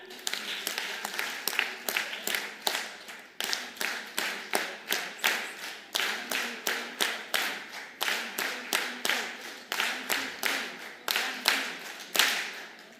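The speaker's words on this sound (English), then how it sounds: "Can we applaud our governors by giving them 7 claps countdown?" An audience at a Council of Governors women's caucus event claps in unison, a long run of sharp, evenly spaced group claps in repeating counted sets, loud and close in a hall.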